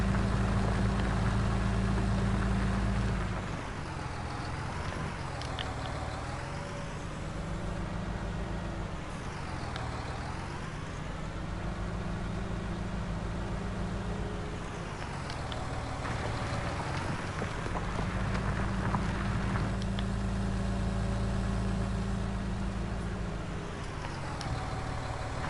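A tractor pulling a plough across a field in Farming Simulator 19, its engine droning steadily and loud throughout, with slow rises and falls in pitch as it works, no talk over it.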